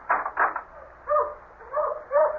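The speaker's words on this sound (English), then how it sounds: "damn dogs are all stirred up again" Dogs bark at night in a radio drama, several sharp barks close together followed by longer, higher yelping calls, moderately loud with no talk over them.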